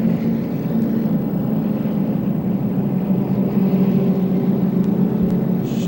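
Late model race cars on an oval track accelerate together at Rockford, a steady loud roar of engines from a pack, heard from a distance without talk.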